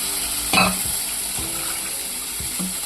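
Dal and masala frying in a pan, a soft continuous sizzle with a few stirring scrapes and clinks scattered through, close and fairly quiet, no talk.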